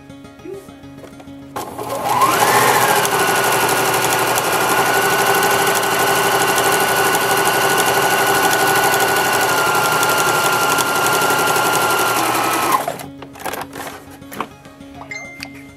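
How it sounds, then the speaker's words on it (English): A sewing machine runs steadily for about eleven seconds, stitching a Christmas stocking straight over its pins, with a spin-up at the start and a quick stop at the end. "go over your pins with your sewing machine"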